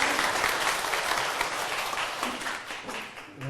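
Steady applause from an audience at a Buddhist lecture, moderately quiet and continuous, with the clapping thinning slightly toward the end.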